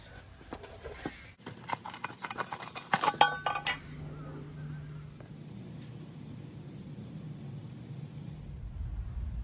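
Screws and a nut being removed from the engine cover of a vintage MTD Trail Flite riding mower, a flurry of close metallic clinks and rattles from the hand tool and loose parts, then a quieter low hum.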